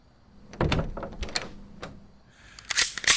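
Someone bangs on a door at night in a horror scene, producing several sharp, close knocks and thumps in an irregular burst, followed by rustling and scraping.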